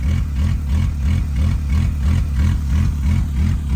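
A Honda Accord engine idles roughly and loudly close by, its pulsing, uneven low rumble lurching in a steady rhythm with no one speaking.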